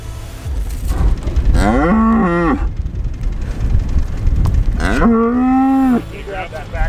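A cow on a Montana ranch lets out two long, loud, close moos a few seconds apart, with low rumbling handling noise between the calls.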